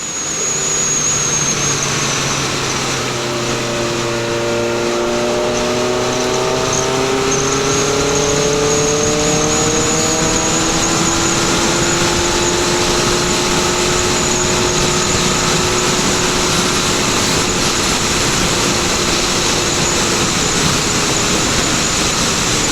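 A Triumph Trident 660 motorcycle fitted with a 17-tooth sprocket pulls hard in fourth gear, its engine note climbing steadily for over twenty seconds under a constant roar of wind rush.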